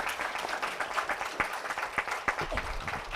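An audience at a women in leadership conference and convocation claps for award winners, steady scattered hand claps of moderate level with a few sharp individual claps standing out.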